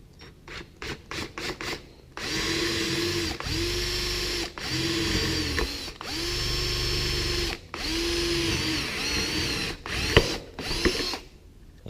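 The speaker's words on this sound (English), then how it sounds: "take a 3/8 forestry bit. Forestry. Heck yeah, suckers growing trees. Forstner bit, and drill through the middle of that for this bolt to go through." A power drill fitted with a 3/8 Forstner bit bores through wood for a tool cart build, running in several steady, close bursts of whirring and grinding separated by brief pauses, after a few quick short triggers at the start.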